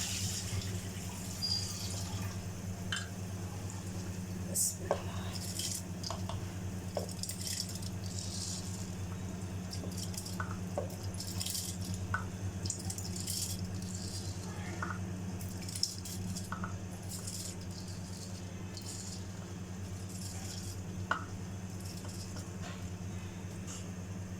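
Rice is tipped into a pot of boiling water while cooking pulao biryani, giving soft watery splashes and small clicks over a steady low hum of boiling, fairly faint throughout.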